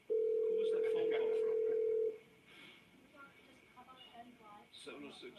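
A conference call line in a stadium authority board meeting gives a loud, steady dial tone for about two seconds, then cuts off, and people in the room talk quietly.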